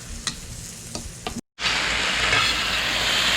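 Diced potatoes frying on a Blackstone flat-top griddle: a loud, steady sizzle with a few sharp ticks of a spatula, a brief cut to silence, then the hiss returns, fuller and constant.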